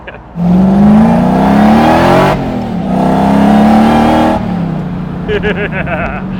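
A supercharged drift truck engine revving hard, its pitch climbing through two long pulls with a short dip between them, loud and close, then settling toward idle as a few short blips follow.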